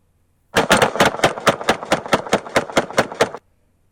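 Fresno police officers open fire in a rapid volley of about fourteen sharp, loud gunshots over roughly three seconds, with silence before and after.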